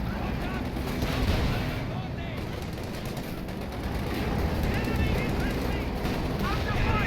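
Anti-tank gun fire hits a Panzer IV in the Company of Heroes 2 video game, as a dense, continuous battle din of shots and explosions.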